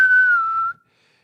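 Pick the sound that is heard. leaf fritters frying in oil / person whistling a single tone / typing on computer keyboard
person whistling a single tone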